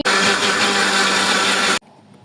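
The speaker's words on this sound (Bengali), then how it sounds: "এখন এই আমগুলো আমি যে ব্লেন্ডারে ব্লেন্ড করে নেব" An electric blender whirs loudly and steadily as it purées ripe mango pieces, then cuts off abruptly, leaving near silence for the last half second.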